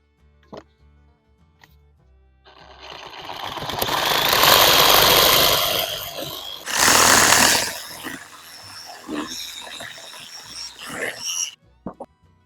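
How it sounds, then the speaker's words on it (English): A Sawzall reciprocating saw cuts through a deer skull in a loud, close burst of buzzing, grinding strokes lasting several seconds, then a second short cut, followed by clunks and handling noises. "going to take the Sawzall and I'm going to make a cut on the forehead and on the back"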